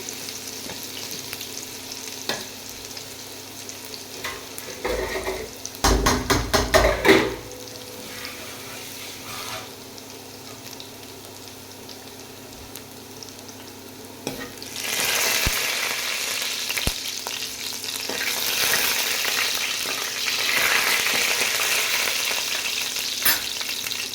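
Cumin and garlic frying in hot oil in a pan for mustard greens, a low steady sizzle broken by a burst of clattering, then a louder, hissing crackle as more goes into the oil.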